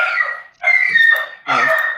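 Three short bursts of a dog barking, each a loud, close, harmonic yelp with brief pauses between, and no talking.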